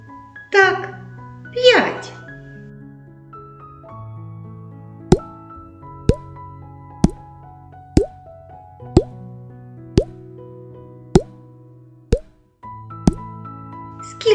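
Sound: water drops falling

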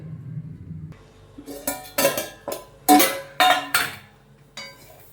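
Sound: lid placed on pot of cooking dal

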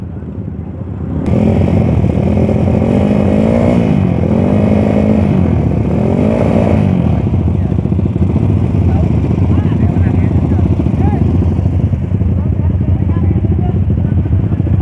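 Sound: motorcycles revving at a night street race

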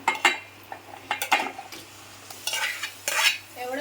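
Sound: chicken added to hot masala oil and stirred in pan

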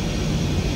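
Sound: aircraft climbing after takeoff in a video game

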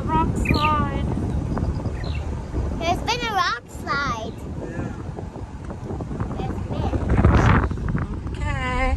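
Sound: wind blowing during road trip

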